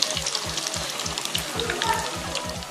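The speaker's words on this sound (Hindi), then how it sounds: "मैं इसमें नरगिसी कबाब ऐड कर दूँगी। मीडियम फ्लेम पे हम इसे फ्राई करेंगे।" Nargisi kabab frying in hot oil over a medium flame, a steady crackling sizzle with a repeating low rhythmic thumping underneath, moderately close and continuous.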